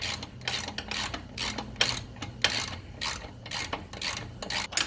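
A ratchet wrench clicks rapidly in repeated bursts while loosening a rear wheel bolt on a 1988 Honda Goldwing motorcycle, close and fairly loud, with short pauses between strokes.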